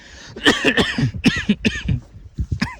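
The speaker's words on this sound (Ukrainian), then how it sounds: "бачите, ще й кашлюю" A person with a viral illness coughs repeatedly in short harsh bursts, close by, with a throat-clearing rasp between the coughs.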